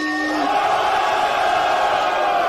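A large crowd at a rap battle final cheers and shouts together in a loud, sustained roar of voices with whoops rising throughout.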